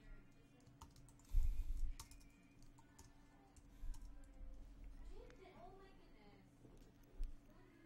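Code being typed on a computer keyboard, bursts of quick key clicks with a few heavier thumps, close and fairly quiet, with pauses between bursts.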